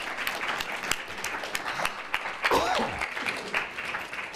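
An audience claps steadily throughout, a warm wash of applause with a brief voice rising out of it midway.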